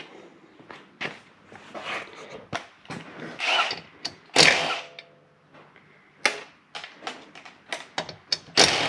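Bolts being undone on a Lexus LS430 intake manifold with hand and power tools, a series of short, sharp clicks, ratchet bursts and metallic knocks in irregular rhythm, close and clear with quiet gaps between.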